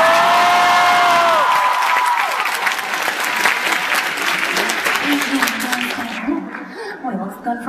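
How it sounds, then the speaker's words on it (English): A studio audience bursts into loud, sustained applause for Bradley, with cheering mixed in and a few whoops. The clapping fills most of the clip, then thins out near the end as it dies away. "Everyone give Bradley a round of applause."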